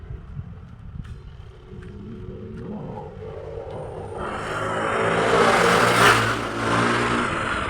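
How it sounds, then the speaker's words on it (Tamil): A vehicle roars past at speed, its loud engine building from a distant rumble to a close, harsh peak before fading slightly, with no talk over it. "எவன்டா இவ்வளோ ஸ்பீடாக சவுண்டு போட்டுக்கிட்டே போகிறான்?"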